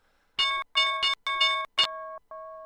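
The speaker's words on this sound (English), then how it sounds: "oh, there's the opening bell." An electronic opening bell for the stock market sounds as a sequence of crisp, bright chime tones, four quick bursts followed by two softer, lower tones, with no other sound around them.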